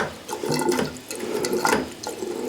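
Cold water rushes through a faucet in a house with galvanized water lines, a loud, steady hiss and splash with a brief dip about halfway through and no voices.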